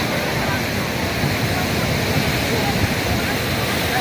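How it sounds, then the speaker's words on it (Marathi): Sahastrakund waterfall in Kinwat taluka, Nanded, roars as a loud, dense, unbroken wash of falling water, steady and close throughout with no pauses. "किनवट तालुका इथे असणारा सहस्त्रकुंड धबधबा"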